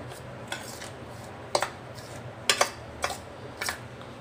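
Roasted rice powder being mixed with grated coconut and cardamom for thambittu, a Shivaratri offering: a few sharp, scattered clinks of a spoon against a bowl over a quiet room background, spaced roughly a second apart.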